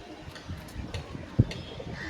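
Pigeons cooing at a pigeon seller's stall, soft scattered coos and bird calls over background bustle, with one brief louder thump.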